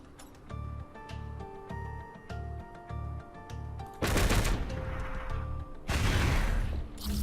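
Video-game gunfire from a mech in Into the Breach: rhythmic bursts of low thumping shots over a tonal game soundtrack, followed by two heavier, noisy blasts.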